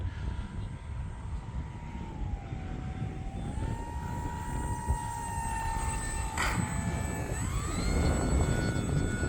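An electric E-flite Pitts 850mm RC plane flies in windy conditions, a thin whining motor tone that shifts pitch as it maneuvers, over steady wind rumble, moderately distant.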